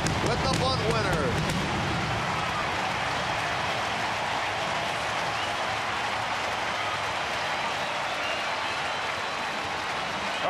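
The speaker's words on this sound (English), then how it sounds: "Well, a jubilant crowd here at Great American Ballpark" Jubilant baseball crowd at Great American Ballpark roaring and applauding after a walk-off bunt win, a loud sustained wash of cheers and clapping with a commentator talking over it throughout.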